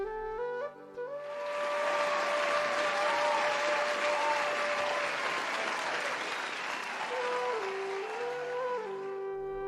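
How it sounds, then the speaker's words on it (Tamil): Family applauding and cheering in celebration, a long steady round of dense clapping from a group that swells in and holds under a sustained musical tone. "உங்களை சார்ந்தவர்கள் சந்தோஷமாக கைதட்டி ஆரவாரம் செய்கிறார்கள்"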